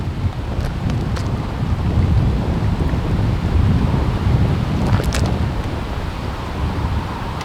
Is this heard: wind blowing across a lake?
yes